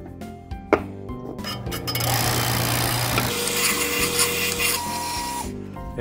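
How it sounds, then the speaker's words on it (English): Power sander working on two screwed-together starboard plastic pieces indoors, starting after a few knocks and then running as a steady, close buzzing whir for several seconds. "I brought them inside to sand it down and make it like one piece"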